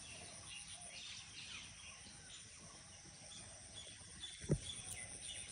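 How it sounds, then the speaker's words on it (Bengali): At dawn on a damp rooftop after rain, faint birdsong drifts in from a distance over a steady background hiss, with one sharper nearby sound briefly standing out. "এই ভোরবেলা পাখির ডাক শুনতে ভালো লাগে"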